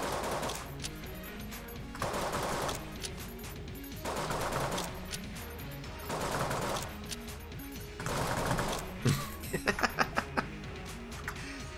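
Rapid bursts of gunfire in the bullet-hell game Enter the Gungeon, with five loud volleys roughly two seconds apart followed by a quicker run of sharp individual shots at the end.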